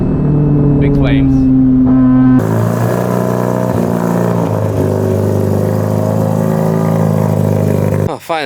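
A bridgeported 13B rotary engine in a Mazda RX-8 screams loud and close at high revs on the Nürburgring, a sustained harsh roar that rises and falls between shifts, with a voice speaking briefly at the start.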